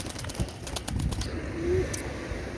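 Golden baby pigeons coo and rustle nearby in short bursts, with a brief low call standing out near the middle.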